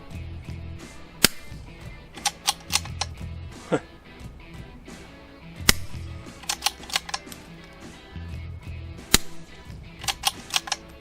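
Sharp, crisp cracks from a .22 LR rifle with a modular silencer, fired repeatedly in irregular bursts, each with a quick metallic snap of the firing pin, close by over a low background hum.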